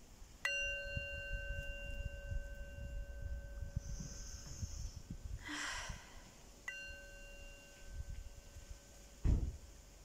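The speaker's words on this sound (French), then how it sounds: "je voulais juste sonner le petit gong" A small gong struck twice, each hit ringing out with a clear sustained metallic tone that slowly fades, close and quiet in a calm room with faint rustling between strikes.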